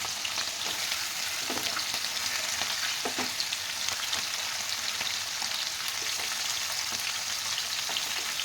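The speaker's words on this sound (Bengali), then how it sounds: "সেই তেলে কিন্তু আমি চিকেনগুলো দিয়ে দেবো মিডিয়াম ফ্লেমে রাখবো চিকেনগুলো ভেজে নেব" Chicken pieces frying in oil in a pan over a medium flame, a steady close crackling sizzle with occasional sharper pops and stirring, running continuously with no voices.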